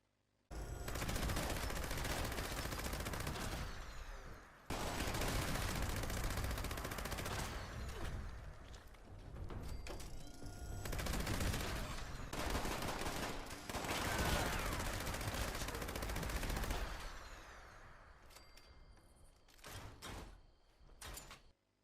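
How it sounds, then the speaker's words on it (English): Gas minigun fire in Fallout 76 pours out in long, loud, dense bursts of rapid shots. Brief pauses break the stream before it trails off into scattered clanks and bangs near the end. "Now combine that with a gas minigun, which have 500 in one mag with faster fire rate."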